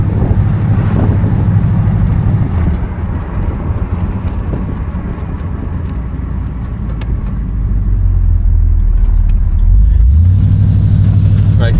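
A 1969 Oldsmobile Delta 88 V8 runs at a steady idle close by. The low engine rumble holds throughout and swells slightly near the end, with some wind buffeting mixed in.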